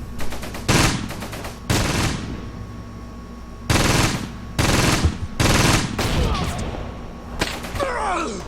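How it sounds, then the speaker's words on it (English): Tanks in the Close Combat WWII Normandy campaign open fire on a position, loud bursts of gunfire and heavy impacts in several separate volleys, with short gaps and faint background between. "They open fire on that position."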